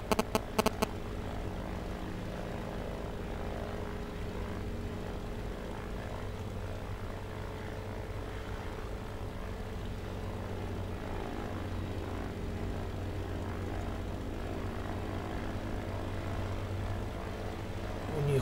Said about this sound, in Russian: Второй самолет появился.